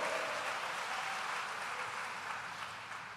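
A church congregation applauds during a pastor's sermon, a steady wash of many hands clapping together that holds evenly and tapers off slightly toward the end, with no talk over it.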